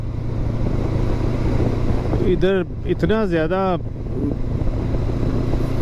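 A motorcycle ridden on the roads of Brampton, Ontario, gives a steady engine drone and wind rush throughout, while the rider talks briefly over it.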